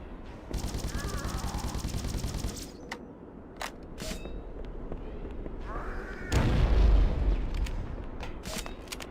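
The Needler firing in Halo CE, a dense rapid stream of crackling shots for about two seconds followed by scattered impacts, sharp pops and a heavy low rumble of explosions.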